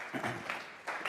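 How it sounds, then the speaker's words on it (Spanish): A church congregation at a Sunday service claps in a short burst of applause, dense, roomy hand clapping swelling and fading in waves. "Vamos a regalarle ofrenda de palmas al Dios de la gloria."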